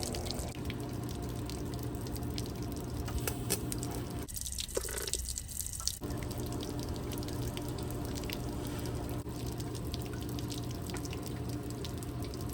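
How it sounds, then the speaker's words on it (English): A garden hose runs cold water over the end of a metal spindle shank during a TIG weld repair on a Harley chopper trailer, giving a steady close splashing and dripping wash that continues throughout. "having the garden hose here running cold water over the end of this shank"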